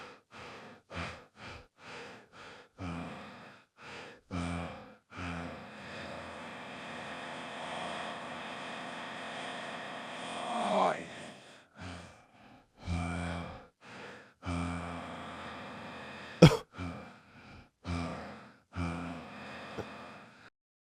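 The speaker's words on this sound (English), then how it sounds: "Sounds like he's breathing." A video game character's heavy, rhythmic breathing in Spider-Man: repeated short gasping breaths and snorts in regular bursts, then a long sustained rumbling stretch with a loud sharp click near the end.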